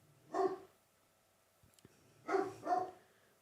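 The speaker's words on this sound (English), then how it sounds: "They're just barking at someone walking by." Several dogs let out short, sharp barks at a person walking past with their own dogs, one bark near 0.4 s, then a faint pause with light clicks, and a closer double bark near the end, no talk over them.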